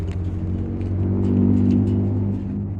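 Lifted van with a V10 engine idling nearby, a deep steady rumble that swells briefly in the middle and then settles, with no talking.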